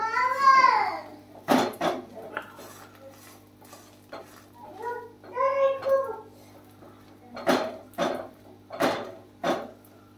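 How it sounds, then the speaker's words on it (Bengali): Bread coated in egg being pressed and fried in a pan for egg toast: sharp utensil scrapes and taps against the pan come in clusters, with a voice and a faint sizzle in between. "রুটিটা ডিম সহকারে রুটিটা আমি এরকম করে ঠেসে ঠেসে ভাজবো"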